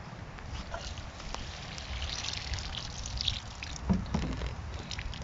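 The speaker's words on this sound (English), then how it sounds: "Right, so that's all the water in the watering can." Water from a watering can trickles and splashes steadily onto garden plants nearby, a continuous wet pour with a few brief louder splashes, no talking.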